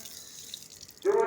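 A tap opens about a second in, and steady water begins running from it, close and moderately loud after a quiet background.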